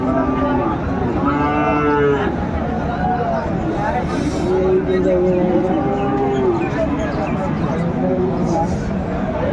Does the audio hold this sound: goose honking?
no